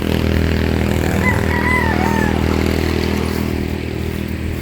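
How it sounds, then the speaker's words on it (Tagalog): A motorcycle rides onto a flatland property in Lopez, Quezon, with a loud, continuous engine drone and some clattering. A faint brief whistle-like tone passes midway. "kaya ang pag-isog po namin dito ay ginagamit namin itong motor"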